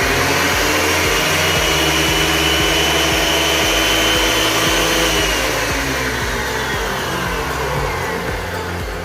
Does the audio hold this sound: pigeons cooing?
no